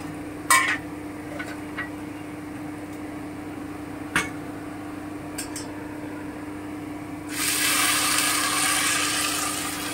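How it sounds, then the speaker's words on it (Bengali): Water hitting a hot pan of fried rice: after several quiet seconds with a few faint clicks, a sudden loud, steady hiss bursts out and continues to the end. "এই পর্যায়ে আমি এখানে জল দিয়ে দিচ্ছি, যা চাল তার ঠিক ডবল জল দিতে হবে।"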